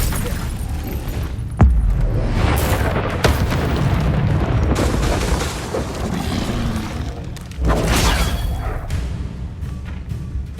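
Incendio fire spell blasts in Hogwarts Legacy, heard as loud booming bursts, with a sharp hit early on and another strong blast later, over continuous rumbling combat noise.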